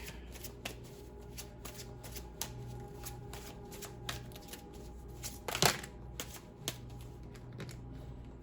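A deck of slippery reading cards is shuffled up close, with quick riffling bursts and soft flicks in a quiet room and a louder flurry near the end.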